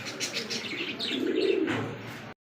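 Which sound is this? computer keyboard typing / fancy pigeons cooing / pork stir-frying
fancy pigeons cooing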